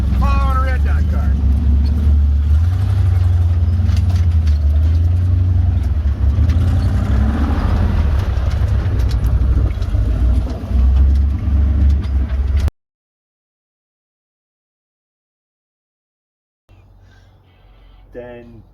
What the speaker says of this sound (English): A dually tow truck on leaf spring. Pulling a race car.